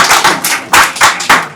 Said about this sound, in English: a round of huge applause for the students